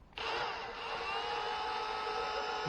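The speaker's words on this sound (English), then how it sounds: "So we got our bottle hooked up to the drill motor." An electric drill motor spins up abruptly and holds a steady, high whirring drone while winding fishing line from a spool onto a reel, with no talk.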